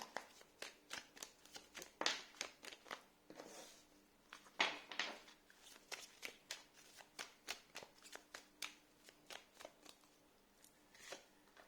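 A deck of tarot cards is shuffled by hand in close, quiet bursts of riffling clicks, with rapid repeated snaps and a few stronger flurries, otherwise no other sound.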